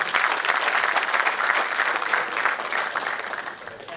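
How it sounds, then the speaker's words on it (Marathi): Loud, sustained audience applause fills a hall at a stage ceremony for a biography book launch, a dense, steady patter of many hands holding strong for four seconds and easing slightly at the end. "एकदा जोरदार टाळ्या यांच्यासाठी"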